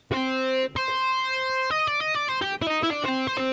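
A distorted synth lead from a Roland Fantom with a shimmering chorus plays a melodic run of sustained and quick repeated notes, loud and upfront, no talking.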